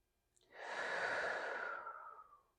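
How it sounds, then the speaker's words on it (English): One slow, deep breath drawn in through the nose and released through the mouth during a core workout, a soft airy rush that swells and fades over about two seconds, close and alone. "deep breath in through the nose and out through the mouth"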